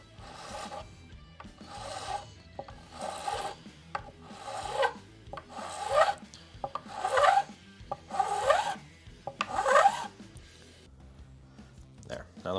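Fret ends on a Hagström Deuce-F guitar being filed by hand: a steady series of about nine raspy, rhythmic strokes, close and fairly loud, with faint talk in the background.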